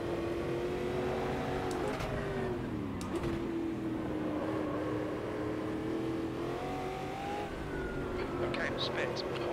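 Stock car engine in the Automobilista 2 racing game, a loud, steady high engine drone with pitch dips as the gearbox shifts through gears, heard under continuous talk.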